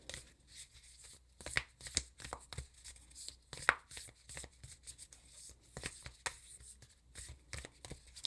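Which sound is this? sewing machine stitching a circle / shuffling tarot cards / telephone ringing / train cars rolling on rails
shuffling tarot cards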